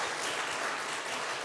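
Congregation applauding during a Sunday worship service at a Korean church, a dense, even burst of many people clapping together, steady and moderately loud throughout, with no one speaking.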